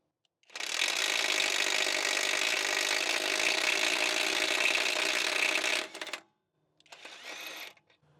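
A Hyper Tough cordless impact wrench on speed 2 with a 4 amp-hour battery hammers loudly and continuously for about five seconds, stops, then fires a shorter burst, close and alone.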